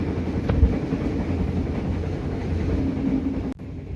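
Steady rumbling running noise inside a Gumarang business-class train carriage in Indonesia, a continuous muffled roar with faint rail clatter and a sharp knock near the end, no talking.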